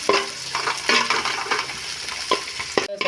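Beans and carrots frying in a pan, stirred in bursts with scraping and clattering over a constant close sizzle, no voices.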